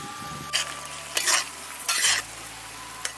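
Poi greens and potato sabzi cooking in a pan over low to medium heat, with a steady sizzle and several loud bursts of stirring and scraping at irregular intervals; no talking.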